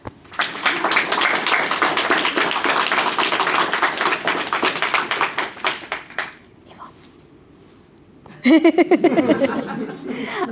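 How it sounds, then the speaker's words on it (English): A group claps steadily for several seconds, the applause gradually thinning and fading out, then a voice speaks after a short pause. "let's give him a clap"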